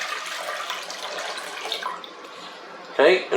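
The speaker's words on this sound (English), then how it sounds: "Put about 4 cups of water in a pot." Water from a tap runs into a cooking pot for seasoned rice, a steady hissing stream that softens partway through and then ends in a louder splash near the close.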